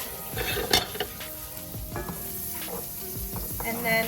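A mixture melting in avocado oil in a cast iron pan sizzles steadily up close, broken by a few clinks and scrapes of a utensil stirring it, with no talking.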